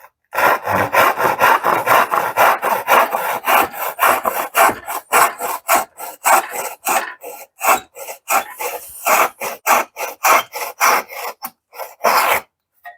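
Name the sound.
hand dovetail saw cutting wood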